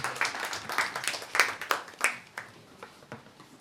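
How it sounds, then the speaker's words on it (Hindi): Audience applause at a literary event, a brief scattered round of clapping that thins out and fades over a few seconds. "हम सभी से अनुरोध करते हैं कि जोरदार तालियों से आप उनका स्वागत करें"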